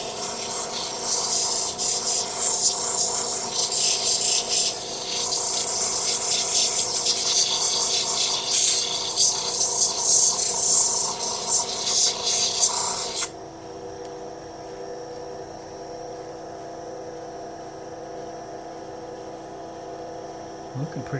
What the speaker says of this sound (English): I'm on my well-worn 260 grit wheel. I don't want to put any scratches in, I just want to smooth it down.